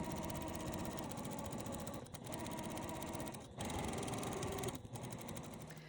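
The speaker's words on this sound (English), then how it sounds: "so I've sewn all the way around" A sewing machine stitches around a fabric circle, a steady close mechanical whir with rapid needle rhythm, broken by three short pauses.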